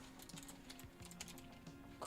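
Quick bursts of computer keyboard typing, soft scattered key clicks under a steady background hum, brief and fairly faint.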